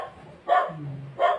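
Dogs barking angrily, two sharp close barks about three-quarters of a second apart with a low growl between them.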